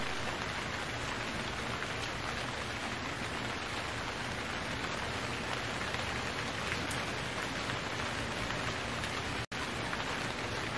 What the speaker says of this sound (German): Jetzt regnet das.